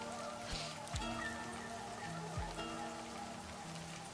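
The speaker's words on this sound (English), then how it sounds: "The raindrops fall on the paper, landing with soft patters." Soft rain falls steadily on paper in the interactive horror novel Livber: Smoke and Mirrors, a faint continuous patter under a quiet, droning background with occasional light taps.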